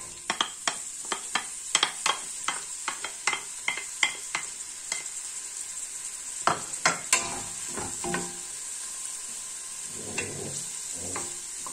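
Onion and celery fry in olive oil over high gas heat for a chicken vegetable soup, with a steady bright sizzle under repeated sharp clicks and scrapes of a utensil stirring the pan, close and fairly loud.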